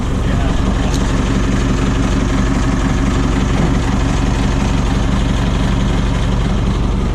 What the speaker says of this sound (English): So I'm gonna lift the revs right up.